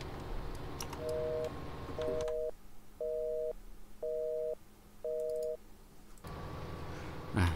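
A phone call placed in Farming Simulator 19 gives five evenly spaced dual-tone ringback beeps, each about half a second, over a quiet hum. Busier game ambience sits before and after the ringing.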